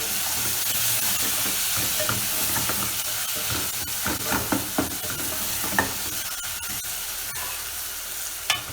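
Ginger and green chili masala for egg curry sizzles in a pan, a steady hiss of frying broken by intermittent scraping stirs and small clinks, moderately close.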